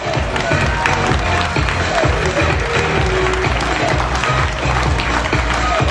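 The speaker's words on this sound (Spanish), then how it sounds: "Bien, un fuerte aplauso, por favor." Loud, sustained audience applause at a gymnastics show, dense clapping mixed with crowd cheers filling the whole stretch at a steady level.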